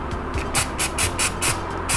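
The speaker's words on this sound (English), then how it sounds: "I'm gonna put some silicone spray." Silicone spray is applied to a Mazdaspeed 3 in-tank fuel pressure regulator in about seven short, evenly spaced hissing bursts from an aerosol can, close and distinct.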